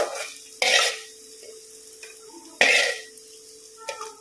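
Onion and garlic fry in oil in a pan, a low sizzle broken by two loud bursts of stirring and scraping about two seconds apart, plus a faint clink near the end.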